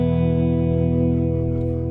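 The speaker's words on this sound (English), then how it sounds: "Okay, go back to the middle position with both pickups on." A Gretsch Country Club hollowbody guitar with both pickups on, a sustained chord ringing clean and steady at close range with a little ambience, played alone without talk.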